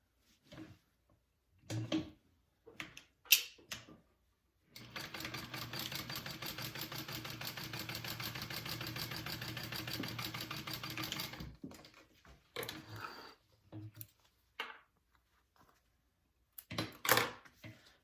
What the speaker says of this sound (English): I am going to stitch them together at a 3/8 inch seam allowance first